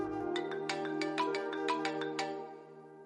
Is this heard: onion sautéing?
no